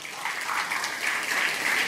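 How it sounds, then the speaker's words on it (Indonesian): An audience at a Muhammadiyah community gathering bursts into applause, a dense, steady clapping that carries on evenly for the full two seconds without any voices rising above it. "Tepuk tangan."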